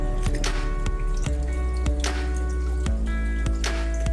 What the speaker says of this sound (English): Let's give it a bit squash in this water.